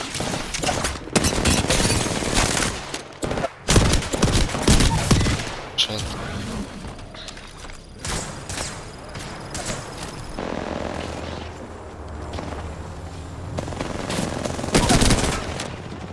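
Video game gunfire fills the space with heavy bursts of rapid machine-gun shots and sharp single reports, loud and close, easing into scattered shots before a final burst.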